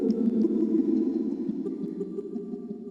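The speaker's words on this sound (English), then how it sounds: "So here is just normal reverb" A reverb effect from the Unfiltered Audio Silo granular plugin gives a sustained, smeared low-mid wash, steady and fairly loud at first, then slowly thinning and fading across a few seconds.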